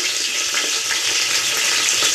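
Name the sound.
garlic and spices frying in butter and oil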